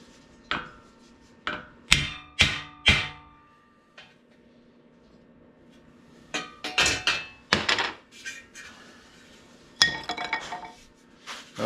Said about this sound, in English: I think I'll use a smaller hammer this time.